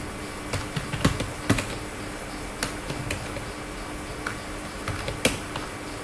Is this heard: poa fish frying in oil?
no